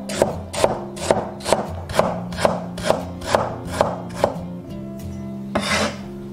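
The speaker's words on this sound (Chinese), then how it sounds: "准备一些老姜切片，" A knife slices through old ginger on a cutting board in about a dozen evenly spaced, crisp close chops, followed by a brief pause and a final scraping knock, no voices.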